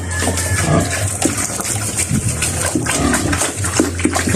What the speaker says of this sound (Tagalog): hinahalo ko na yung pagkain niya sa tubig